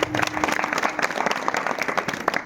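Applause from an audience at a devotional kirtan gathering, honouring a pakhawaj player: a steady wash of dense clapping, loud and sustained throughout, with a faint tonal hum underneath.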